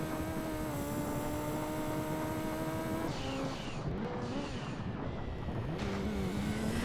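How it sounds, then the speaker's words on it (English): An engine revving in the Gran Turismo 2 racing game, a droning tone that holds steady then dips and climbs again through gear changes, continuous and fairly loud. "I can hear his car rev and he's right behind me."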